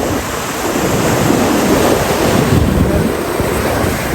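Water rushes loudly through a hidden spot near Trichy in a steady, continuous roar, close by and dense, with wind buffeting the microphone throughout.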